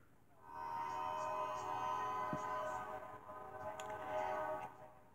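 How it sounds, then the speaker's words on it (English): A WNY&P freight train with engines 432 and 430 and grain hoppers rumbles by close at hand near Meadville, Pennsylvania, a sustained tonal drone over the rolling noise, with a brief clank partway through. "This is the last train of the day here."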